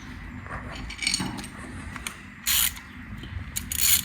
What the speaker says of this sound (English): you can undo the whole oil filter. As I said, you'll need a 32mm hex socket for that.